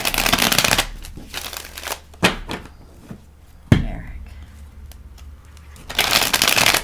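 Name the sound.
shuffling tarot cards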